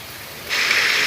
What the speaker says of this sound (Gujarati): કેટલો વરસાદ છે પણ